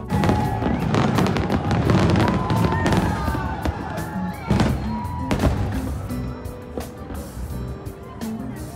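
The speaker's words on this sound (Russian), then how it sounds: "Мы сейчас идем с фейерверков в честь Дня Независимости." Independence Day fireworks in New York bursting in repeated booms and crackles, with an outdoor crowd and people talking throughout.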